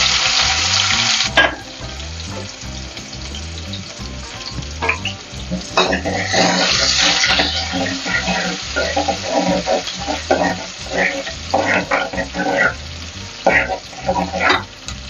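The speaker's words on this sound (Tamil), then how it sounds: "இப்போ வந்து வெங்காயம் வந்து வதங்கிடுச்சு நல்லா" Onions sautéing with cumin in a pan, steady crackling sizzle with repeated scraping stir strokes, close and continuous throughout.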